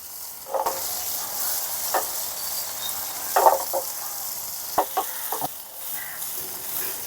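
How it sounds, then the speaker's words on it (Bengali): Prawn pakoras frying together in hot oil, a soft steady sizzle with a few sharper pops and spatters scattered through it, heard close with no talking. "আমি সবগুলো চিংড়ির পকোড়া একসঙ্গেই ভেজে নিচ্ছি।"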